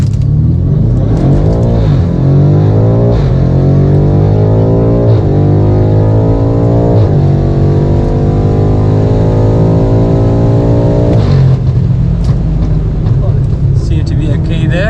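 Stage 2 BMW F90 M5 with methanol injection accelerating hard from a rolling start, a loud close engine roar climbing through repeated rising pulls, with brief dips at each gear shift.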